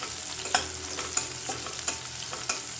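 Finely chopped green chili fries in a pan with a steady close sizzle, broken by soft rhythmic taps and scrapes of stirring about every half second.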